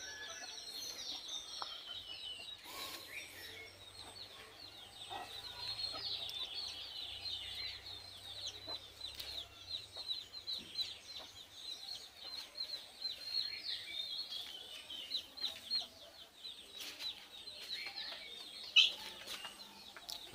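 Native hens cluck faintly in a low-cost village poultry house where a hen broods on her eggs, with scattered chirps and rustling over a quiet, steady ambience and no talking.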